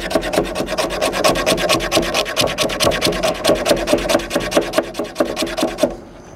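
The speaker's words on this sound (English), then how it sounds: "Let's try the file. Let's see if this will scrape some fat wood." File on a Gerber Center Drive Plus multi-tool scraping fatwood: fast, rhythmic rasping strokes, loud and close, repeating steadily for about six seconds before stopping abruptly.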